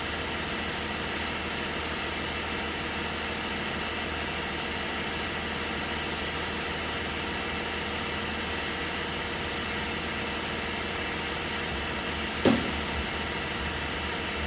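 A Volkswagen Touareg engine idles steadily while warming up, a constant broadband hum with no change in pitch, and one short sharp knock near the end.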